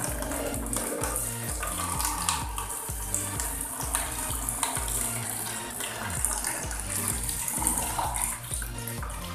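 Water running steadily through a newly fitted Nikita water filter in a home plumbing setup, a continuous close gushing flow with a low rumble, no talk.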